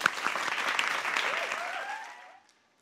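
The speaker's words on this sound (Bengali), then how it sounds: "রাগিবের জন্য একটা হাততালি।" Studio audience at a televised reality talent show clapping for contestant Ragib, a dense burst of applause that holds steady for about two seconds, then tapers off and stops.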